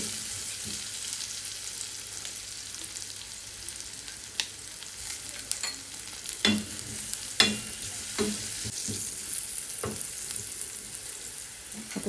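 Red or green pepper frying in a pan, a soft steady sizzle with occasional scrapes and clinks of stirring, fairly quiet and close.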